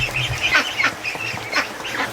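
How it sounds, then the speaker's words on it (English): Small ducks in a free-range flock inside a barn give a quick run of nasal quacks, close by and fairly loud, with several overlapping calls. "Oh, little ducks."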